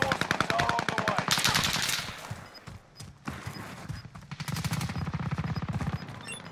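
Rapid automatic gunfire from a Call of Duty Warzone match on Rebirth Island, with loud sustained bursts, a short lull, then more sustained firing continuing to the end.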